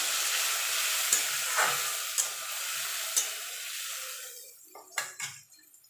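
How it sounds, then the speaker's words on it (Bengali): Fried potatoes hiss loudly as spice paste goes into the pan for a banana-flower dish, with several clinks of a spoon stirring against metal before the sizzle dies down. "এবার এই সব মশলার পেস্টটা একসঙ্গে দিয়ে দেবো"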